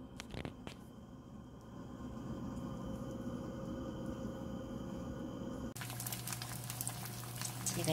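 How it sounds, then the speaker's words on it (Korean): Food sizzling in a pan, a quiet steady crackle that swells louder and brighter toward the end, with no talk over it. "지글지글."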